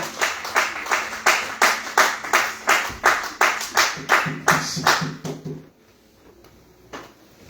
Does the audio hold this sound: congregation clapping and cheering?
yes